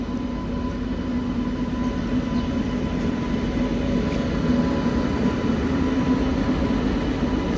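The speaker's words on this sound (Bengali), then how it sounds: "ব্যান্ডেল স্টেশনের 5 নম্বর প্ল্যাটফর্মে অ্যারাইভ হচ্ছে শিয়ালদা থেকে মালদা টাউন গৌড় এক্সপ্রেস" Sealdah–Malda Town Gour Express pulling into platform 5 at Bandel station, a steady low rumble of rolling train wagons with a faint whine, continuous and fairly loud with no voices.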